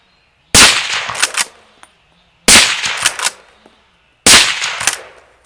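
Three loud, sharp shots from a Mauser M25 MAX straight-pull rifle, evenly spaced about two seconds apart, each with a ringing metallic tail and quieter action clicks, separated by silence.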